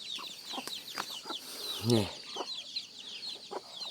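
Chickens on a rural farmyard cluck and chatter close by in repeated short bursts, with one louder call standing out midway. A person speaks briefly over the birds.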